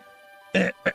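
A short choking cough breaks out close and loud after a quiet stretch, followed by a second brief cough, from someone who has just played a flute during a game stream.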